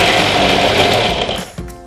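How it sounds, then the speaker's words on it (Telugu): An electric mixer grinder whirs loudly nearby, blending a thick Oreo chocolate milkshake with white chocolate, a steady motor drone that winds down and stops near the end. "మళ్ళీ మిక్సీ చేసుకుందాం."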